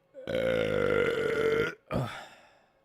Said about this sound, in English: starting off strong with one very strong burp.